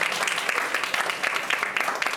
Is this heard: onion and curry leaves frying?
no